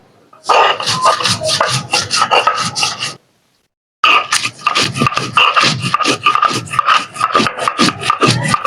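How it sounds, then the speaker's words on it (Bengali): Garlic and shrimp shells are ground into a spice paste by hand on a grinding stone. Loud, close rasping strokes repeat in a fast rhythm, pause for a moment, then carry on steadily. "তো এই মশলাটা প্রথমে বেটে নিতে হবে"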